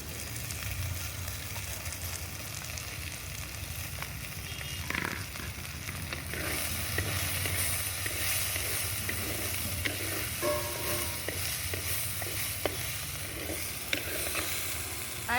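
Onion pieces frying in hot oil while making a roti pachadi with okra and raw mango: a steady, close sizzle that runs the whole time, with occasional light clicks from stirring.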